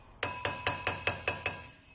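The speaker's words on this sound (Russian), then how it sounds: "Сейчас попробуем его отстучать молотком." Seven sharp metallic hammer blows in a steady, even rhythm strike a slightly stuck part to knock it loose, each ringing briefly before the next, close and fairly loud with no talking.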